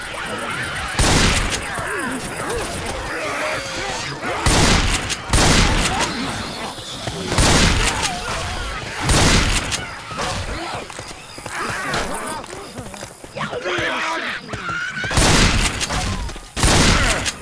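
Left 4 Dead 2 gunfire comes as repeated bursts of loud shots among crashes and chaotic game noise, with a voice talking over parts of the action.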